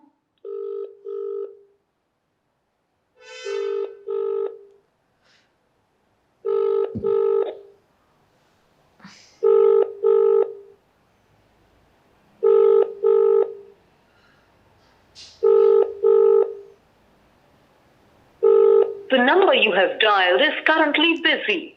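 A phone call to a district collector: short bursts of dialing and ringback tones repeat at even intervals over near silence, then a voice starts talking at the end.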